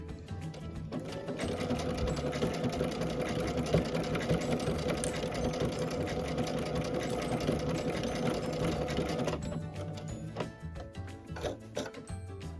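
A sewing machine runs a steady, continuous blanket stitch on a scrappy Dresden quilt block for about eight seconds, loud and close, then slows into a few separate clicks.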